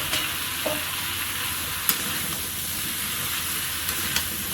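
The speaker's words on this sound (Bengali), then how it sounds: "এইবারে কুমড়োটাকে ভালো করে কষাতে হবে" Pumpkin stir-fried in a pan gives a steady close sizzle with a few sharp scrapes and taps of a utensil against the pan, and no talk.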